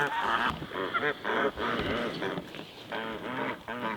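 Geese honk in a loud, close run of repeated calls on a homestead as they are introduced to sheep, with no voices over them.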